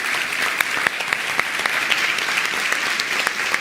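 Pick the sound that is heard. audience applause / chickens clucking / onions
audience applause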